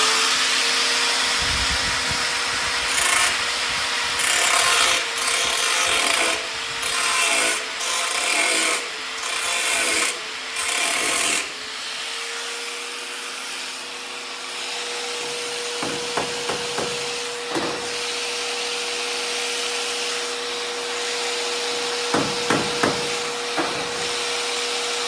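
An angle grinder smooths a rust repair on the cowl of an International Loadstar truck, loud abrasive rasping in choppy bursts for about ten seconds, then a steady whining hum with brief sharp ticks of contact.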